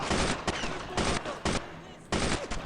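Machine gun fire in the World War II shooter Brothers in Arms, several sharp bursts of rapid shots in uneven clusters, loud and close, with quieter battle noise between them.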